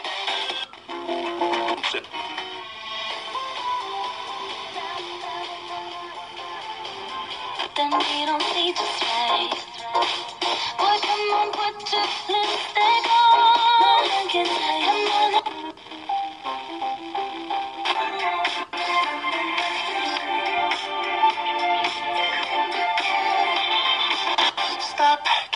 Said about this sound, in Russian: Так что давайте включать данный радиоприемник.